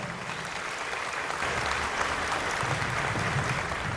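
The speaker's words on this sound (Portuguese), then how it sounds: "Eu peço uma salva de palmas para a doutora Nelly, que vai nos falar" An audience at a formal commemoration of the Brazilian royal family's arrival applauds a speaker, a continuous even roar of many hands clapping that swells slightly midway, with no talk over it.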